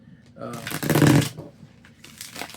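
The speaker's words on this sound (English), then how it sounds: "I'm going to go ahead and shuffle some cards here" Tarot cards shuffled by hand in a brief, close riffle lasting under a second, with a softer rustle after it and a voice speaking around it.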